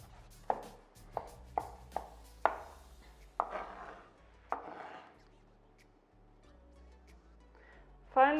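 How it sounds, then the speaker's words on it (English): Knife finely chopping baby zucchini seeds on a cutting board, a series of crisp, close taps in a steady rhythm, then a few slower heavier chops, with a clatter at the end. "Finely chop the seeds of the baby zucchinis."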